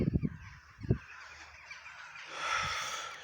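A few coarse bird calls sound near the start, with a brief cackle later against a steady hiss of outdoor background.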